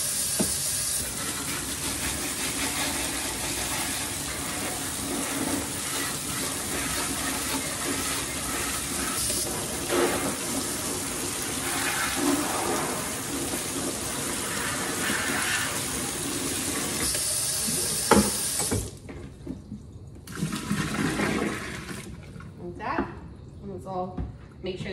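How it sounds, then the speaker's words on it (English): Hot water sprays steadily into a mop bucket, a continuous hissing rush for most of the time before tapering into brief splashes and drips, with someone talking over it. "I just spray it out with hot water."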